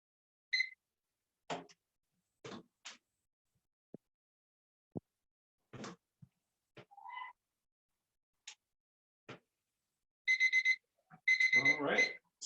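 An electronic lab timer goes off after a five-minute countdown during a yeast and glucose experiment: after a stretch of faint scattered clicks and knocks, a rapid run of high beeps sounds in two close bursts near the end.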